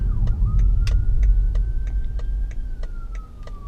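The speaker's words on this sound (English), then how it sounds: "We got a emergency going on here, so gotta let this guy go" Heard from inside a 2020 BMW 530i while driving, an emergency vehicle siren wails steadily across the whole stretch, rising slightly and holding, over loud low traffic rumble and repeated sharp clicks.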